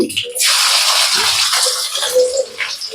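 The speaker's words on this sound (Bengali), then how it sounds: "পেঁয়াজটা আমি প্রথমে দিয়ে দিচ্ছি।" Sliced onions hit hot oil in a pan with a sudden loud hiss that settles into a steady, close sizzle lasting a few seconds, with no voices.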